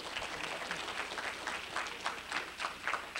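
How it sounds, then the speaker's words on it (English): An audience gives a round of applause to a speaker at an international investing talk: continuous dense clapping at moderate, fairly even level throughout, with no voices over it. "a big round of applause tonight"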